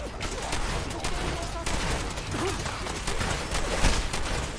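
Gunfire in Fallout 4: dense, continuous rattling shots and bursts throughout, fairly loud and close, with someone talking quietly over part of it.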